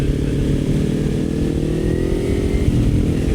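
A Yamaha R25 motorcycle engine revving loudly and close, a dense continuous buzzing roar with a slight rise in pitch as the revs climb.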